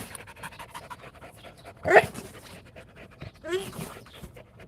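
A tired dog pants after a spell of playing with a tire, giving quick breathy bursts with a louder puff near the middle, close to the listener against a quiet room.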